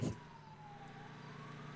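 Ambulance siren in the video game GTA 5, a faint, steady wail after a brief bump at the start, heard at a distance with no talk over it.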